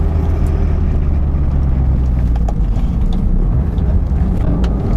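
A Toyota MR2 Turbo fitted with a BMW S54 engine makes a loud, sustained, low engine roar under load during a hard pull, steady and close, with no talking.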